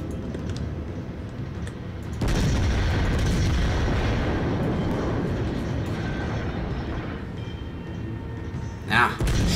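Heavy naval gunfire from a battleship in World of Warships, a sudden loud boom that rolls into a long, dense rumble, with a sharper burst near the end.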